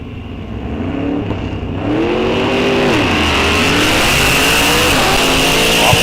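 A 1955 Chevy and a 1956 Chevy muscle car launch off the drag strip line, their V8 engines roaring loud and close, pitch climbing through gear changes into a sustained heavy blare.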